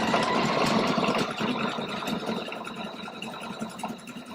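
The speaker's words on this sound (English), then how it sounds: "we're going to go ahead and stitch this out so that you can have an idea what this looks like" A Pfaff Quilt Expression 720 sewing machine stitching decorative stitches, a steady motorized hum and rapid needle chatter running continuously at close range, with no talking.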